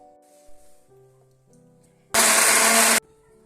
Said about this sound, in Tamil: இதிலே ஊற்றி அரைச்சிடலாம்